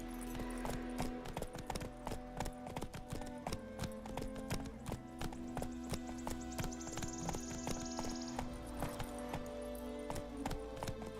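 Hoofbeats of the horse Roach galloping in The Witcher 3: Wild Hunt, a steady rhythmic clip-clop running the whole time under game music and ambience, with a brief whinny.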